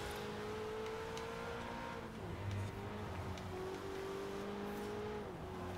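A Ferrari 488 GTB engine driving in Forza Horizon 4, a fairly faint, steady engine drone with a pitch rising and dropping as the car accelerates and slows.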